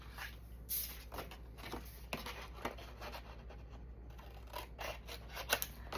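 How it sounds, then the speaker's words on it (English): Scissors snip paper during Halloween-themed paper crafting with cardstock, a series of separate crisp cuts set against a quiet room. "Cut that 1/2 inch off there."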